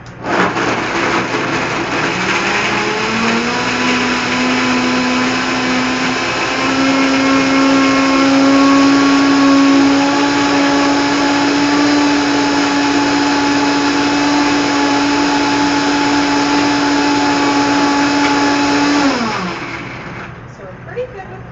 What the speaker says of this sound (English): We're going to put our top on. We're going to blend.